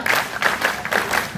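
Audience applause at a council founding anniversary event, a short burst of many hands clapping in pulsing waves, loud and fairly close.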